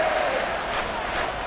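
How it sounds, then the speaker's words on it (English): A football stadium crowd cheering during a Dolphins game as a late goal-line play approaches, a loud, dense roar of voices held for a brief stretch. "This crowd doing all they can."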